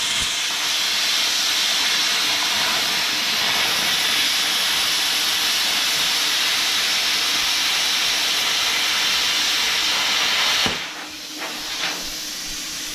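A Bestarc BTC500DP plasma cutter slicing through aluminum: a loud, continuous roaring hiss for about ten seconds that cuts off abruptly, leaving only a quieter background.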